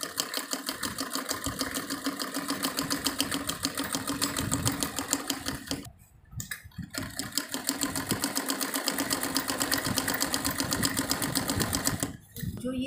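A sewing machine runs a hem stitch along the bottom edge of a folded shirt sleeve, a steady rapid mechanical whir with two short pauses where it briefly stops.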